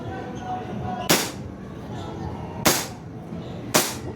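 Three sharp, loud pops from a Hi-Capa type gas blowback airsoft pistol, fired singly at uneven intervals over steady background noise.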